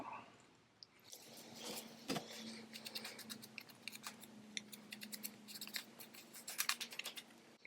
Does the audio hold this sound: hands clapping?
no